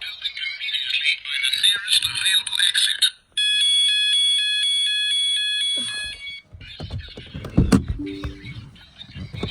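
A car fire alarm goes off during a test: a warbling electronic trill first, then a steady shrill multi-tone beep for about three seconds, followed by clatter, thumps and a short chirp as it is reset.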